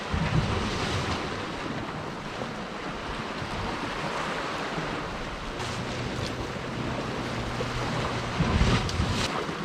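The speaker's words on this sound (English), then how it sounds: "Tide's absolutely flying." Fast-running tidal water and breaking waves on the Welsh coast, a dense continuous rush with heavy wind buffeting the microphone and no talk.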